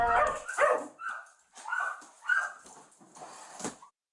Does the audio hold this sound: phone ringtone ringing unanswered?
no